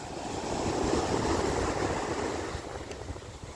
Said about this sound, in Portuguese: E aqui, pessoal, é o nosso Oceano Atlântico.